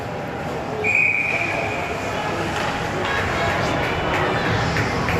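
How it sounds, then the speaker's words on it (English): A referee's whistle sounds once at a youth bantam hockey game, a single short shrill blast over constant rink noise and ambient crowd hum. "A lot of whistles in this one here tonight."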